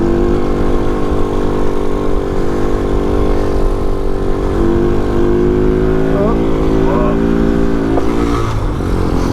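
A Vader 125 motorcycle engine roars steadily in third gear through a wheelie, a loud sustained drone close to the rider with a slight pitch wobble late on and wind buffeting throughout.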